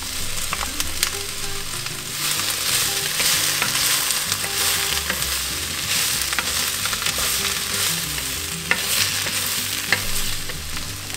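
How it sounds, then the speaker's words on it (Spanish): Tomato cooks in oil in a pan, giving a loud, continuous sizzle and crackle, with scraping stirs now and then. No one speaks. "incorporamos el jitomate y solo lo vamos a cocinar por un par de minutos"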